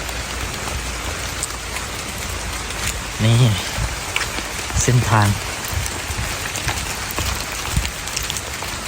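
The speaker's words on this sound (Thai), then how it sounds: "ฝนปล่อยๆนี่นะครับ" Heavy rain pours steadily in a dense hiss on a forest walk to Kong Kaew Waterfall, Khao Yai, with someone speaking briefly twice over the downpour.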